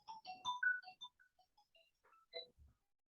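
Mobile phone ringtone sounding during a Hindi-language Java programming lesson, a short chiming melody of bright tonal notes that rises and stops within a few seconds, heard alone with no talk over it.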